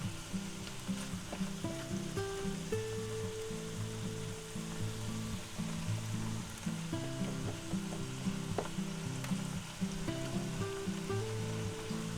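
Egg mixture with green onions stirred in a hot pan, a steady loud sizzle and crackle running throughout, with scraping stir strokes and no voices.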